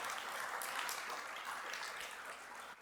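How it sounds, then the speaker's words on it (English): Steady clapping from an audience at a morning power breakfast event, a dense, even wash of applause filling the room for a few seconds, with no voices on top. "You can give a round of applause for that."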